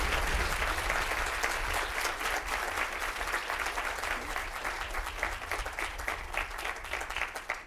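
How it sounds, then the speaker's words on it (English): An audience at the UC Davis School of Medicine induction ceremony for the class of 2025 claps steadily and densely for the whole stretch, a broad, even applause with no voices above it. "If you would all please join me in a round of applause."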